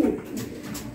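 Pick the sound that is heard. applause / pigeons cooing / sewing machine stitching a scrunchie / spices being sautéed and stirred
pigeons cooing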